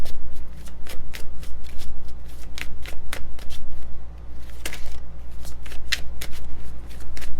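Tarot cards shuffled in the hands during a reading, a rapid run of crisp close riffling and slapping bursts with a few short pauses.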